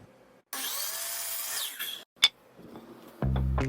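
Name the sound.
power saw cutting a 12-degree bevel in wood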